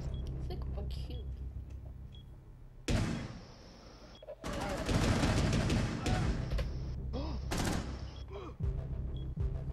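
Rapid bursts of automatic gunfire from a video game, loud and dense, interrupted by short quieter gaps, with a player talking over the action.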